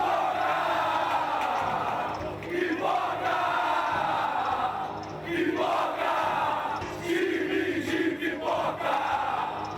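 Angry Palmeiras football supporters chanting and shouting in unison after a 1-1 draw with Vasco, a dense roaring crowd with rhythmic surges of bellowed chants rising and falling.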